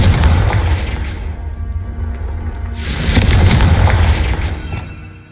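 A Confringo fire spell in Hogwarts Legacy bursts with a loud booming blast, then a second heavy explosive roar swells midway and rumbles on before fading, with no voices.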